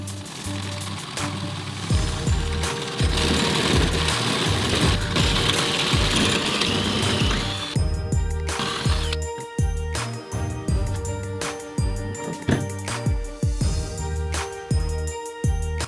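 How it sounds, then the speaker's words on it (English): A power drill bores a straight hole all the way through wood for a coffee table build, a loud continuous whirring grind for several seconds, then rougher, choppier drilling with bursts and pauses. "I want to go ahead and drill a straight hole all the way through."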